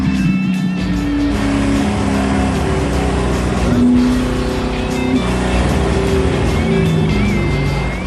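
A drag race car, a hot rod Javelin, runs along the track with a loud, sustained engine roar that holds steady and swells slightly midway, heard close with no talking.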